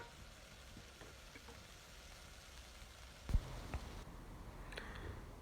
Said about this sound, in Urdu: تڑکا تیار ہو گیا